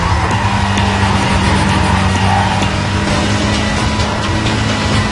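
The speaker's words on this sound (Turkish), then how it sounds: "Arabamız BMW M3 sanırsam." A BMW M3 in the racing game Need for Speed Carbon roars steadily at high revs, its engine loud and continuous while the tires skid and squeal faintly through the drive.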